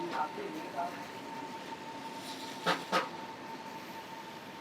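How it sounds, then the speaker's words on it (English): A Singapore MRT metro train hums along with a steady tonal whine, quiet and somewhat distant, with a couple of sharp clacks partway through. "Here's the MRT train."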